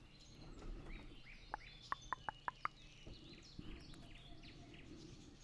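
Frogs croak in the World of Warcraft game world, giving a quick run of six sharp, short croaks over a steady ambient bed of game environment sound.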